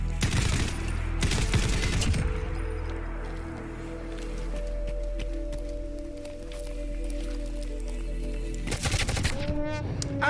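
Rapid bursts of MG42 machine gun fire from gunners in Fallout 4, loud and close, come at the start and again near the end, with a steady low hum and rumble of the game's ambience in between.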